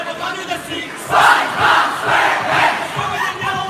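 Volleyball team shouting a unison cheer on a serve during a JV/varsity match in a school gym, a crowd burst rising sharply then pulsing in several loud rhythmic waves before easing off.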